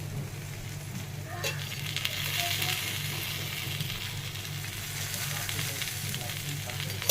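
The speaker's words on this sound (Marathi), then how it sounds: "आता आपण दुसरी बाजू बांगड्याची छान अशी फ्राय करून घेणार आहोत" Bangda mackerel fries in oil over a low gas flame, a soft, even hiss of sizzling that holds steady at moderate volume, with faint background noise.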